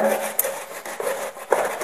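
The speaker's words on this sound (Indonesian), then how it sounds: "Yuk kita gergaji dulu" A hand saw cuts through a bonsai tree branch, giving close scraping, rasping strokes with short sharp catches, irregular in rhythm and moderately loud.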